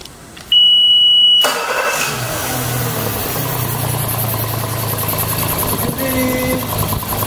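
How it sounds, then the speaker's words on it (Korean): An outboard boat engine cranks briefly with a sharp whine, then catches and settles into a steady, loud idle with a constant low drone and slight fluctuations. "엔진 시동을 먼저 걸어보겠습니다."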